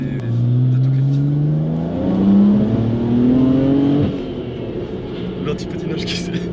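A tuned BMW 335i with a forged engine and hybrid turbo pulls hard in sixth gear, its engine drone climbing steadily in pitch, easing briefly, then building again, loud and close inside the car.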